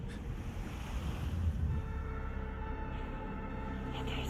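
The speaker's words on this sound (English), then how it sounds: "There's waves." Ocean surf rolls steadily onto a beach in the video game Death Stranding 2, a constant low wash with soft wind, distant and unbroken throughout.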